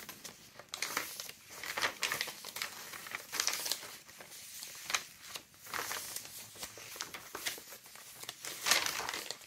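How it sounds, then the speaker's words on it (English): Pages of coffee-dyed vellum paper crinkle and rustle as they are handled and turned, in bursts of crisp crackling separated by quieter pauses, close and fairly soft. "Here is vellum paper,"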